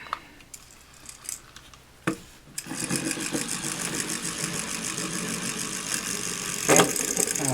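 A Non-Stop Top gyroscope toy is handled with a few clicks and taps, then spins up into a steady buzzing whir that stays close and fairly loud for several seconds.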